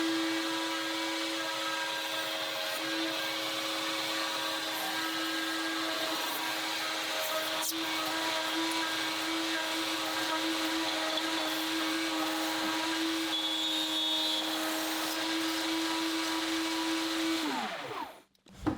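A router cuts a wooden tenon along a template with a dust collection brush attached, giving a steady, loud high-pitched whine with airy roar that holds evenly for most of the clip, then spins down at the end.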